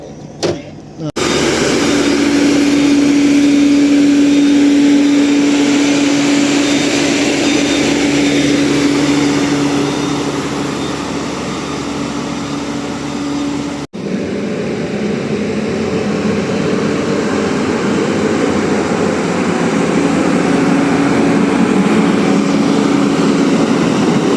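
A heavy-equipment excavator engine idles steadily after the throttle is lowered, giving a loud, continuous low rumble with a brief dropout midway and no talk over it.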